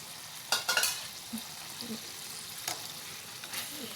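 Lemongrass sizzling with tofu in a frying pan, steady frying hiss punctuated by several sharp stirring clatters, close and fairly loud.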